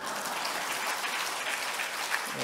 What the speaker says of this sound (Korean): 박수를 치려면 치시고